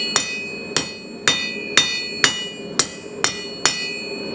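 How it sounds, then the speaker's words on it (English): Hammer blows on hot steel at an anvil while hand forging a leaf, eight sharp ringing strikes at an even, unhurried pace, close and loud, each with a brief metallic ring. "I did straight down hammer blows until I got it out like this"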